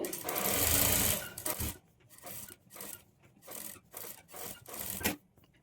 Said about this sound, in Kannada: ಈಗ ಲೈನಿಂಗನ್ನು ಓಪನ್ ಮಾಡಿಕೊಂಡು ಲೈನಿಂಗ್ ಮೇಲೆ ಎಡ್ಜಿಗೆ ಕಿನ್ನರಿ ಸ್ಟಿಚ್ ಹಾಕ್ಕೊಳ್ಬೇಕು